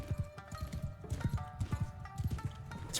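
Horse hooves clip-clopping in the samurai-era video game Shokuho, a close, rhythmic trot of hollow clops repeating steadily, with faint game ambience underneath.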